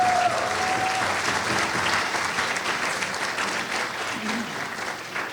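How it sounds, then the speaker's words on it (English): Steady, dense applause from a crowd at an annual gala and silent auction, sustained and fairly loud throughout, with faint voices underneath. "Most of all, I want to thank Evelyn, who should get your round of applause right now."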